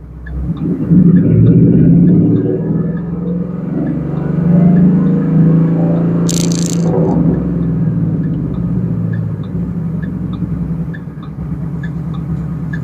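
A car engine held at a steady 3500 rpm during a tuning session gives a loud, constant droning hum close by, with a brief high chirp partway through and no talk.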